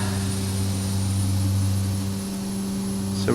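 Twin turboprop engines of a Carenado B200 King Air in X-Plane 10 revving high: a loud, steady droning whine with strong low tones that eases slightly toward the end before a sharp rise in pitch.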